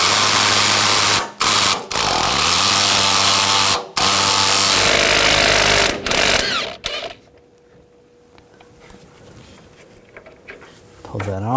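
Nuts on the shock and spring assembly of a 2014-2018 GMC Sierra are spun off with an 18mm socket on a power tool: several loud, close whirring bursts separated by short gaps, then a quiet stretch before one last brief burst.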